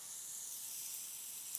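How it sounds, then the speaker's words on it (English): A faint, steady sizzle hisses softly and evenly from cauliflower steaks in a pan, quiet and continuous without pops or talking. "They're not sizzling as fast as I'd like to hear them."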